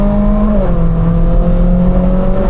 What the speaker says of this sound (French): Et ce moteur, il est majestueux. Pas que dans son son